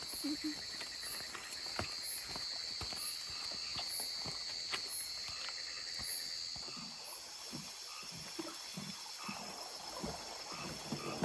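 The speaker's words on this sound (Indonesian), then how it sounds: "cuma ada suara jangkrik, kodok ya" Crickets chirp steadily through a dark night outdoors in the countryside, a continuous high insect drone with faint intermittent frog croaks and the soft patter of footsteps underneath.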